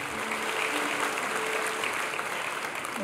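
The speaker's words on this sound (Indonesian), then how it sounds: "Tepuk tangan dulu buat mereka." Congregation at a Sunday church service applauding fellow members leaving on a mission to Timika, a steady, dense wash of many hands clapping at even loudness throughout, with no talk over it.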